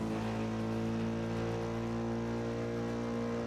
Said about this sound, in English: rolling on that throttle beautifully. Revving it out and shifting.